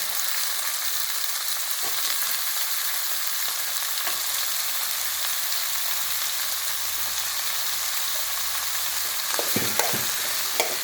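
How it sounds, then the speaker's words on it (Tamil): Chopped eggplant frying in oil for a spicy kara kuzhambu, a loud, constant sizzle and crackle close up, with a couple of brief stirring knocks near the end and no talk. "இதை எண்ணெயில் போடணும்."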